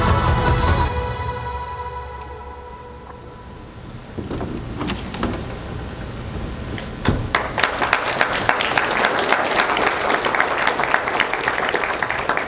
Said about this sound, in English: I actually didn't want to have to start clapping, but I appreciate that